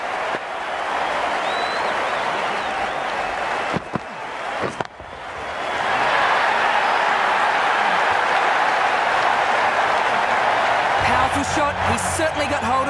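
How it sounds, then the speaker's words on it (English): Crowd applause and cheering at a cricket match in the video game Cricket 19, a steady broad roar that swells and stays loud throughout, with a brief dip midway and the commentator talking over it. "The crowd are loving this."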